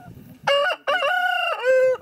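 A rooster crows loudly and close, a single drawn-out cock-a-doodle-doo broken into a few bright harmonic bursts, alone without talk.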